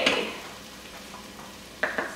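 Food being stirred in a large 6-litre pot of a Tefal Cook4Me cooker: a few scraping, clinking utensil strokes against the pot over a faint sizzle, sparse and close, without talking.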